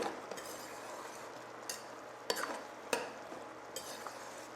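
Ossobuco meat being stirred in a pan, a soft continuous sizzle punctuated by several crisp scrapes and clinks of a utensil against the cookware, fairly quiet and close, with no talk.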